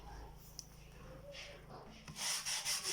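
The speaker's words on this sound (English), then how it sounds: "I'm just going to brush this surface using my sandpaper or my iron brush" An iron brush scrubs across the surface of a wooden shoe last while a shoe is being modified, giving a close, rough rubbing and sanding noise that starts softly and grows into loud, rapid scraping strokes near the end.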